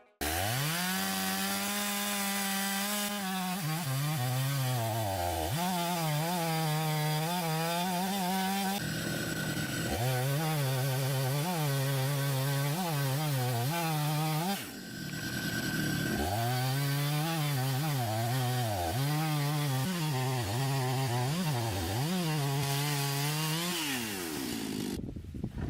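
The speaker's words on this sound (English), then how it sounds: "guide transforms a chainsaw into something like a milling machine" A chainsaw fitted to an aluminum and steel milling guide rips lengthwise through logs, engine whining at high revs under load with pitch dips as it bites, broken by a few brief pauses.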